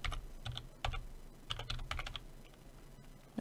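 Typing on a computer keyboard while entering an event name in Unreal Engine 4: a quick, irregular run of close, crisp key clicks with brief pauses, no talk.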